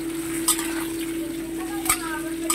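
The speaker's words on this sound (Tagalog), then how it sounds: "So, i-fry ko muna siya." Taro pieces fry in a pan with a steady, close sizzle, and a couple of sharp clinks from a utensil stirring against the pan break in briefly.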